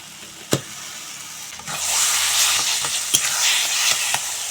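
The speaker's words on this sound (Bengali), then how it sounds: "এখন বাঁধাকপি দিয়ে মশলার সঙ্গে ভালো করে মিশিয়ে নেব।" Ground cabbage fried with spices in a pan, sizzling steadily with a few sharp knocks and scrapes of a spoon against the pan as it is stirred.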